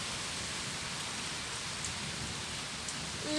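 Steady, dense rainfall hisses evenly throughout, a heavy downpour with no voices.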